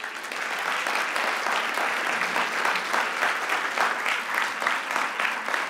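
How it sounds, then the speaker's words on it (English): Lecture audience, women among them, clapping through a sustained, even round of applause, fairly soft and diffuse across the hall. "I see some women clapping"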